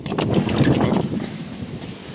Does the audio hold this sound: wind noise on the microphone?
yes